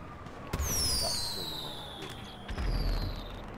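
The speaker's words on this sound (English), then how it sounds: "You shooting a fireworks rocket?" A fireworks rocket is launched in the game Grand Theft Auto V: a sharp pop followed by a long whistling, descending whoosh, then a second bang and whistle, with background game ambience.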